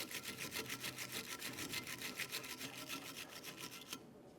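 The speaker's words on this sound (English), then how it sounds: "To do this, you can use a wire brush." A wire brush scrapes rust off a brake caliper bracket on a 2006–2011 Honda Civic during a front brake job, in quick rhythmic back-and-forth strokes, close up and steady, stopping abruptly near the end.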